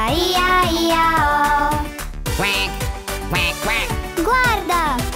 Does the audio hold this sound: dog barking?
no